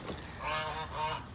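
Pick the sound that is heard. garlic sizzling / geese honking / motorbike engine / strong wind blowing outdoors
geese honking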